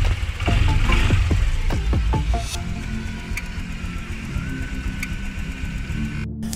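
A Honda Click 125i scooter engine cranks over in a quick series of chugging pulses, catches, and settles into a steady, close, even idle with a faint high whine.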